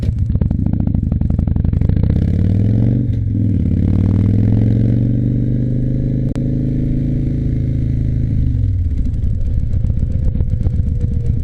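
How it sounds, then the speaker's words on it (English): Motorcycles, including a Harley bagger, ride along a highway bridge near Stillwater and Bayport, with a loud, steady engine drone and rising revs across the whole stretch and no talk. "Lots of bikes out today."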